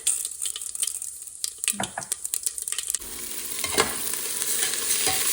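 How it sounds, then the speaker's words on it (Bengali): Whole mustard seeds dropped into hot tempering oil for khichuri, first a run of sharp clinks and stirring clatter, then a loud, continuous sizzle and spitting crackle that fills the remainder. "আর ফোড়নও দেবো হচ্ছে সর্ষে, তো গোটা সর্ষে দেবো।"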